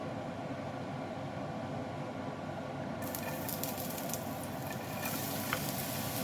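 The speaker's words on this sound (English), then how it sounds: "We turn on the extractor, it's going to be a little bit noisy." Kitchen extractor fan running steadily as a constant broadband whoosh while okra soup cooks, with faint sizzling and clinks from the pot joining about halfway through.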